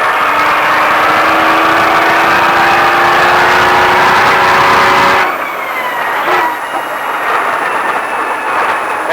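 A Baja race truck's engine roars loud and close as it accelerates on a Las Vegas track, its pitch climbing steadily before the revs drop sharply and the engine settles at a lower, rougher drone.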